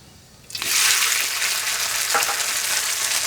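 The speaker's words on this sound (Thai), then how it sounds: "แล้วเราจะผัดเส้นนะครับ โดยใช้น้ำมันจากกระเทียมนะครับ" Noodles stir-fried in garlic oil for rad na with marinated pork, a loud, close sizzle that bursts in suddenly after a quiet moment and keeps hissing steadily, with brief stirring scrapes and no talk.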